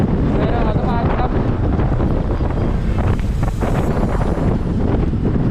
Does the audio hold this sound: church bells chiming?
no